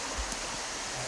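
Creek water running steadily over rocks in a Kentucky woodland, a soft continuous rushing wash heard alone, faint and even throughout.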